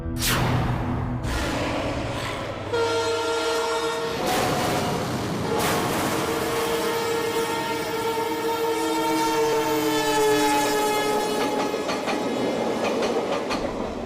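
A train at a railway station rumbles past with clattering wheels, and long sustained horn-like tones rise over it, loud and near throughout.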